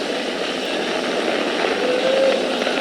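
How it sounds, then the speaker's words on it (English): A SpaceX Falcon 9 rocket carrying the Crew Dragon capsule lifts off on the crewed Demo-2 mission, producing a steady, dense roar that holds at a constant loud level with no pauses. "Flying crew on board Dragon and Falcon 9, and look at them go."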